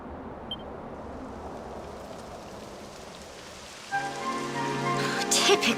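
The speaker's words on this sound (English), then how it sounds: "It would have to go and start raining, wouldn't it?" Rain begins in Dragon Quest XI S, a soft steady patter that builds into heavier rainfall, with a tonal game sound entering midway over the downpour.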